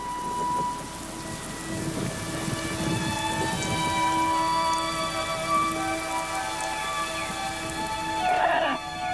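Rain falls steadily at the start of the rainy season at the Maya site of Copan, a constant soft wash of droplets under a sustained tonal musical drone, with no talking.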